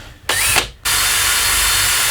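A power drill whines loudly and close, with a brief start and stop before running steadily at full speed, drilling as the bit breaks.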